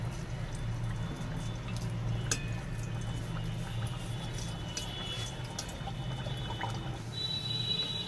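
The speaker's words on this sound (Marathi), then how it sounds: "तेलामध्ये पुरी सोडून घ्यायची आहे, आणि वरून असं तेल आपल्याला याच्यावर घालून घ्यायचं आहे बघा पुरीवर" Hot oil ladled over a sabudana potato puri as it deep-fries in a pan, giving a steady, close bubbling sizzle with a soft pouring wash throughout and no talk.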